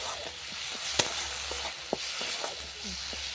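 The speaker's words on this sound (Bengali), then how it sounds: "মেথি পাতাটা দিয়ে একটু নাড়িয়ে আমি এর মধ্যে জল ঢেলে দেবো।" Fenugreek leaves stirred into a fish curry frying in a pan, a steady close sizzle with a few sharp clicks and scrapes of the spoon.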